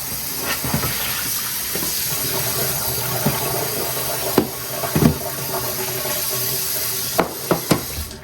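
Tap water runs in a steady hiss while a block of beeswax is rinsed, with a few clunks and knocks as the wax is handled in the sink.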